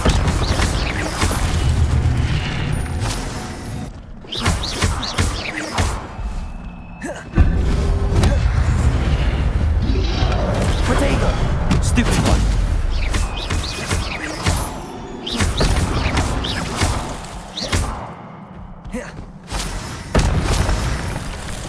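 Hogwarts Legacy combat: an Incendio fire spell and other spells burst in loud, heavy booms and blasts, with repeated thuds, whooshes and clattering effects layered densely and almost continuously.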